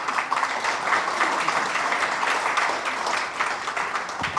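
An audience gives a dense, steady burst of applause, many hands clapping together at close range for a few seconds, with no pause or break.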